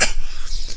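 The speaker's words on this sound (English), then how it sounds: "Got a cough today." A single short cough, sharp and close, bursts out at the start and then trails off into quiet room noise.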